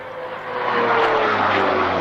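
A Bell P-63 King Cobra propeller fighter flies over the Duxford Flying Legends Airshow in 1998, its engine a loud, steady droning roar that swells slightly as it passes, with no talk over it.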